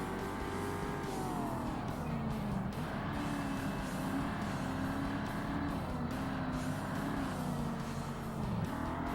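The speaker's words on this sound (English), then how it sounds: "Probably not the greatest downshift timing" Race car engine in a Forza racing game revving hard, its pitch dropping and climbing through downshifts as the motor whines continuously over several seconds.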